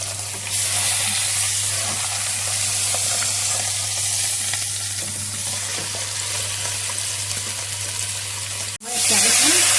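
Food sears in a pot over the fire before water is added for a soup, giving a steady, close, crackling sizzle with a low hum beneath it that cuts off briefly near the end.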